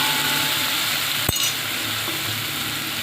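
Ground green chili and garlic paste sizzles in hot oil with a pinch of asafoetida while fenugreek greens are cooked: a steady, close frying hiss with one sharp utensil clink partway through.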